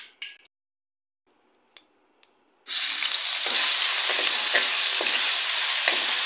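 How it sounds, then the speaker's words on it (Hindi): Ginger-garlic paste dropped into half a cup of hot oil in a kadai: after near silence and a few faint clicks, a loud, close sizzle bursts in and crackles steadily to the end. "आधा मिनट तक हम लोग अदरक लहसुन के पेस्ट को फ्राई करेंगे।"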